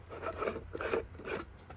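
Top of a stainless steel Cuban coffee maker being unscrewed, three or four short, close metallic scraping twists in quick succession.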